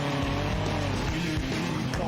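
A car on the road spins its wheels and slides in a big slide, with steady loud engine roar and tyre noise throughout, brief and close.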